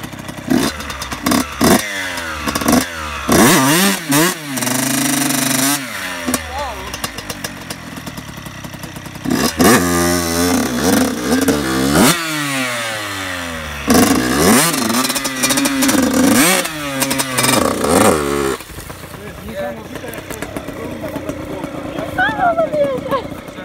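A Yamaha motorcycle sunk in mud, its rear tyre worn bald, revs hard again and again in rising and falling bursts, loud and close, with voices and laughter around it.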